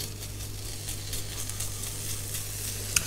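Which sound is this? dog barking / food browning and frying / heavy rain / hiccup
food browning and frying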